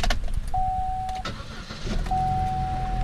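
A Chevrolet Cruze Turbo with a modified quiet exhaust cranks and catches, then settles into a steady rumble, heard close up with no talking.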